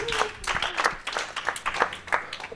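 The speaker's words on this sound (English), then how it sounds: "Give a round of applause." A small audience at a tech meetup gives a short round of applause, with sparse, uneven claps heard close by and a faint voice in the background.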